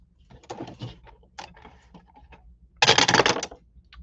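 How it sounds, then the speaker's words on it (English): Dice tumbling during a live sports card break stream, a short faint rattle early on followed by a louder, denser clatter of rolling dice near the end, with no talk over it. "let's do a dice roll"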